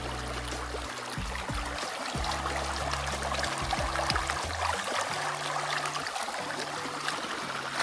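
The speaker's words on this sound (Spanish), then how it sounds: "Miren cómo se escucha el sonido del agua," A small stream pours into a river outdoors, a steady rushing, gurgling flow that stays loud and even throughout with low rumbling underneath and no voices.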